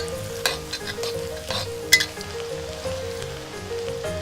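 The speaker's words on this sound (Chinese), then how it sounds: "烧热后加入蒜米、辣椒面，迅速翻炒出香" Garlic and chili powder are stir-fried in hot salad oil in a wok. A steady close sizzle runs throughout, broken by sharp scraping and tossing strokes of the spatula.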